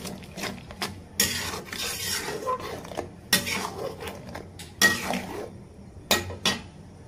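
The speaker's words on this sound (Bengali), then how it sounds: "এখন এটাকে ভালোভাবে মিলিয়ে দিতে হবে।" Turmeric, chili powder and salt are mixed into winter vegetables in a pan, with repeated scraping and rasping strokes of a spatula against the pan in uneven bursts, close and fairly loud.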